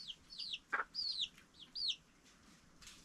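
A rooster clucks in a few short, close calls, with brighter chirping bird calls scattered around it against a quiet background.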